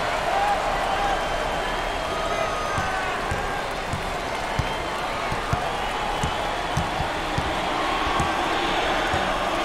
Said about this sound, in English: this hometown crowd is showing their appreciation. Look at them, up on their feet, wanting more